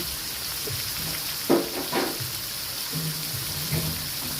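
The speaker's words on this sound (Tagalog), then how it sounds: "Habang tayo ay nagpiprito, nagpapakulo na tayo dyan ng ating tubig" Oso fish fries in hot oil with a steady crackling sizzle and a few soft knocks from a utensil.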